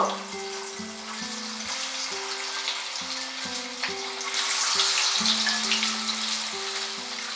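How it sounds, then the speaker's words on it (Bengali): Soya chunks frying in hot white oil in a wok: a dense, continuous bubbling sizzle that swells louder midway, heard close, with a simple stepped melody of music playing underneath. "তেলটা খুব ভালো মতো গরম হয়ে গেলে এর মধ্যে আমরা সয়া চাঙ্ক গুলো দিয়ে দিলাম, সয়াবিন গুলো।"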